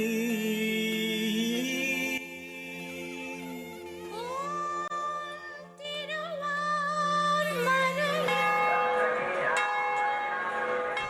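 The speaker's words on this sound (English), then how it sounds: "the historic bell was rung in keeping with tradition" A historic temple bell rung at the start of a chariot parade at a Hindu kovil festival, with sustained ringing tones layered over a busy, music-filled festival crowd.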